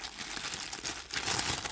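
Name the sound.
unwrapping handbag packaging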